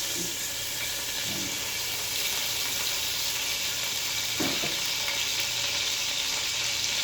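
Onions and tomatoes sauté in hot cooking oil in a pan, giving a steady bright sizzle with a few soft stirring knocks, heard alone without talk.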